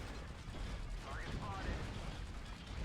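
Rapid machine-gun fire from mechs in MechWarrior Online as a light Flea mech shoots at a Spider mech's legs, a dense continuous mechanical rattle with a few faint whining tones over it.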